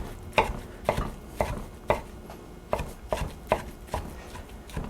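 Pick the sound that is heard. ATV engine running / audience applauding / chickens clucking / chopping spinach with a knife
chopping spinach with a knife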